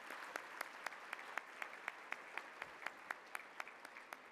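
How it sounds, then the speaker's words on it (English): Sparse, individual hand claps at an awards ceremony honoring event servers, a few people clapping in a loose, fairly regular rhythm rather than a full crowd ovation, moderately near. "I would ask you to join us in giving a round of applause for the beautiful servers here"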